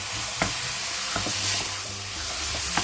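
Minced meat fries with onion, carrot and celery for spaghetti bolognese, a loud close sizzle broken by a few spoon scrapes as it is stirred, no talking.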